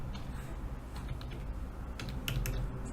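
Rapid typing clatters on a computer keyboard while code is entered for a PySide6 and Qt Designer interface, a close, steady run of clicks with a few louder keystrokes near the end and no talking.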